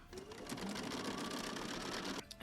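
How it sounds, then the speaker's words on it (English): A sewing machine chain-sewing fabric quilt pieces runs in a steady, fast whirring hum that stops abruptly near the end, close and alone with no talking. "So I'm going to chain all of these together and then sew them together."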